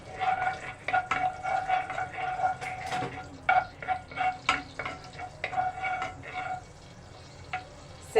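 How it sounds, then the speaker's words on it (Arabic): Ghee melts in a hot pan with soft sizzling and frying crackle, broken by stirring scrapes and a few clinks at close range, and no one speaks. "السمنه ساحت اهيت"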